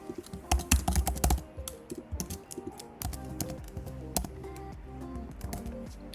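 Card details being typed on a computer keyboard: quick, irregular key clicks in bursts, close and fairly loud, with no one speaking.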